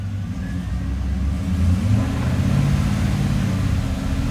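A car engine running with a 6L80E automatic transmission on a lift, controlled by an aftermarket trans controller. It gives a steady mid-pitched hum that swells slightly as it shifts up through the gears, with no talking.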